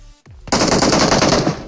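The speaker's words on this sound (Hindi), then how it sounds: "गोली चलने की आवाज आती है" Automatic gunfire in the mobile shooter BGMI (PUBG Mobile) breaks out after a short lull: a loud, sustained rapid burst of shots that runs on without pause.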